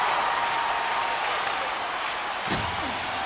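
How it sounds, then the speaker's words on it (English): A hockey arena crowd during a Lake Erie versus Texas Rattlers game keeps up a steady, dense roar of cheering and chatter, with a sharp thump from the rink cutting through near the end. "the crowd pepping up after you know who gets the puck"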